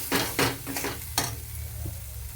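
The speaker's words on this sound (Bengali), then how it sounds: "একদম সুন্দর করে এভাবেই নাড়াচাড়া করে নেব" A spice paste for egg poach curry is stirred in a hot pan, several distinct spatula scrapes over a soft continuous sizzle, with no talking.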